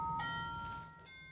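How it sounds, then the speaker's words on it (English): A doorbell chimes with two clear ringing tones, one and then a second about a second later, the first trailing off between them, over a low room hum. "I think it was a doorbell"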